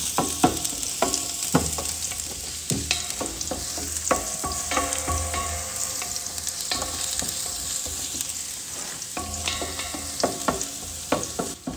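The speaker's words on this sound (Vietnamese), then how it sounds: "Giờ cho hành với tỏi" Minced onion and garlic fry in hot oil in a large pot, giving a steady close sizzle with repeated scraping and clinking as a utensil stirs the pan throughout.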